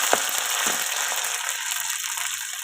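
Garlic and ground green chili fry in hot oil in a short burst of bright, close sizzling, with a couple of soft thuds as they go into the pan.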